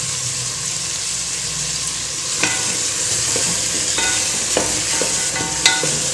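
Potato, carrot, beans and peas sauté in a pan for vegetable pulao, a steady close sizzle punctuated by several clinks and scrapes of a stirring spoon.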